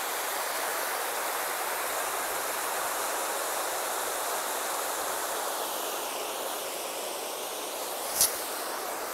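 A waterfall in Montenegro roars in a steady, dense rush of falling water that fills the whole clip, with a brief sharp click near the end.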